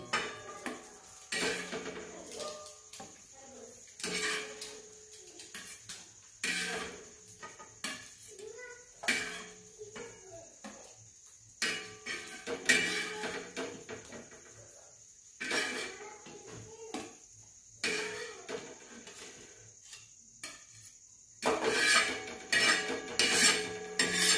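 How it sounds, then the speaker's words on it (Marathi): Fried eggs lifted out of a frying pan, with scattered metallic scrapes and clinks of a spatula against the pan over a faint background sizzle, close by, in irregular bursts separated by quieter gaps. "हे बघा, अंडे फ्राय झाले. अंडे आता आपण काढून घेऊया."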